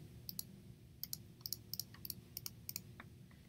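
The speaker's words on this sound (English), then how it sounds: "with the polygonal lasso tool, you just click, click, click all the way around a shape" A faint run of small, sharp computer mouse clicks comes in irregular pairs and singles over a low steady hum, as points are placed one by one with a polygonal lasso tool.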